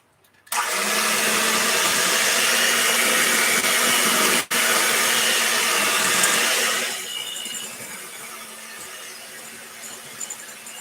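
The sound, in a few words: electric mixer mixing oatmeal raisin cookie dough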